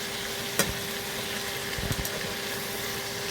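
Vegetables such as potatoes, capsicum, aubergine and raw banana fry in hot oil in a wok, giving a steady close sizzle with a few stirring clatters, no voices.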